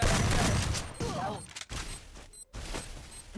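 Bursts of gunfire and a grenade blast in the mobile game Garena Free Fire, loud and dense at first, then broken into short clattering volleys with brief gaps, over faint speech.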